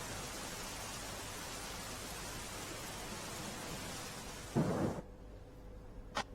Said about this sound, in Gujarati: વડોદરા શહેરમાં આપ જોઈ રહ્યા છો અત્યારે દ્રશ્યો કે ધોધમાર વરસાદ છે શરૂ થયો છે